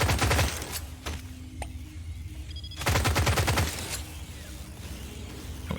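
LOK-1 smart rifle fire in the top-down mining shooter Deep Rock Galactic: Survivor, two loud bursts of rapid shots at the start and around the three-second mark, with quieter mechanical game sounds and a steady hum in between.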